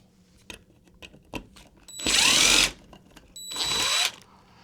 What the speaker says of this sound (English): We're going to take these 2 screws out and remove that bracket.